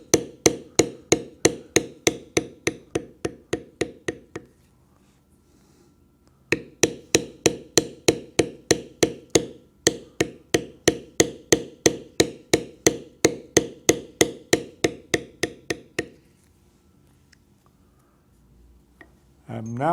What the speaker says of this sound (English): And then we'll do the rest of the head, and we will now continue beveling.